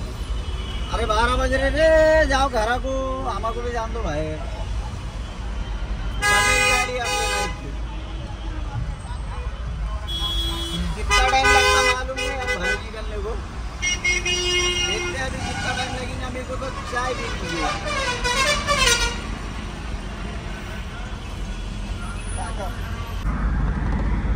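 Road traffic jam on a highway on the drive from Delhi to Indore, with repeated car and truck horns honking in bursts over a rumbling engine drone and people talking inside the vehicle.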